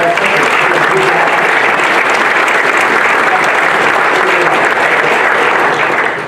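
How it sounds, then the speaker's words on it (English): A conference audience applauds loudly and steadily for several seconds, a dense wash of clapping close to the room microphone that fades slightly at the end. "I'll give a round of applause to the"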